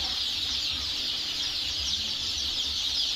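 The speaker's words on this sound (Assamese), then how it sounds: "এটা লোকেল মুরগি লোকেল মুরগি" Local chickens in a poultry hatchery stock room cluck softly and intermittently beneath a constant high-pitched hiss filling the room.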